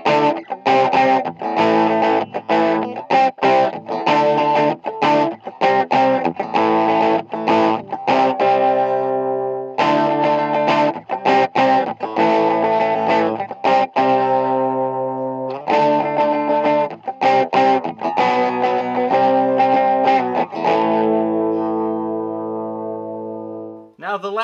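Electric guitar on a 1970s Kay/Univox Les Paul with all three built-in effects engaged, giving a thick distorted, modulated tone; strummed chords and riffs ring out loud and continuous with brief gaps, ending on a sustained fading chord.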